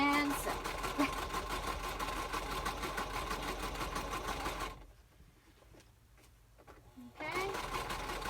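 A sewing machine stitches a journal cover with a steady close mechanical whirr, pausing for about two seconds near the end before running again.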